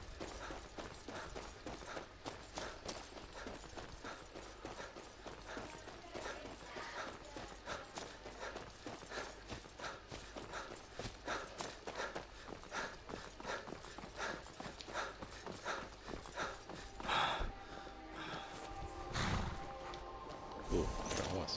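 Horse hooves clip-clopping in the game Skyrim, a steady rapid run of hoofbeats continuing for about twenty seconds at low volume, with a few brief louder clatters near the end.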